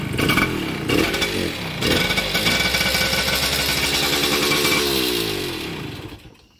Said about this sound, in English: so now when I kick the bike over,